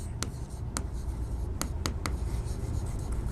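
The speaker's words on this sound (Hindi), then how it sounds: "देखो, इसको हम लिखेंगे" A marker or chalk taps and strokes across a board during a biology lesson, several short sharp writing strokes spaced unevenly over a steady low room hum.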